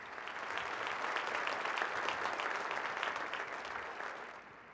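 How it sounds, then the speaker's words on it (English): Crowd applause at a Texas Tech men's basketball welcome event rises to a steady, full round of clapping, then tapers off toward the end, heard from a moderate distance. "let's give them a round of applause"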